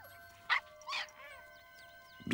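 Young puppies give a few high whimpers and sharp little yips, with short squeaky bursts separated by quiet gaps over a faint musical background, close and soft.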